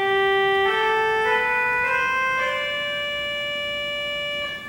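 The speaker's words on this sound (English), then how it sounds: "okay, that's the trumpet sound" A pipe organ playing with its trumpet reed stop: bright, buzzy sustained notes stepping through a short slow phrase, each tone rich in harmonics, clear and alone, fading slightly at the end.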